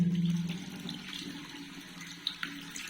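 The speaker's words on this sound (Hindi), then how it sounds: "अब ये हमारा जो है यहाँ से पानी नीचे जा रहा है।" Water drains down from a bathroom wash basin in a steady, soft gurgling rush with a few small splashes, heard up close and fairly quiet.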